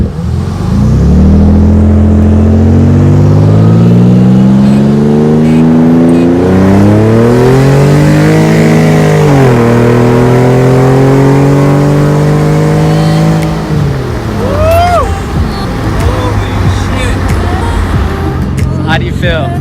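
A Nissan 300ZX twin turbo and a Nissan 350Z accelerate hard side by side in a race, engine notes rising through several gear changes, loud and close, with people talking over the roar.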